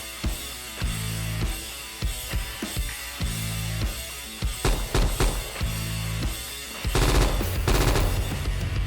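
An M4A1 assault rifle fires in a video game, loud repeated short bursts of gunfire with brief pauses between them, ending in a longer sustained rattle of automatic fire.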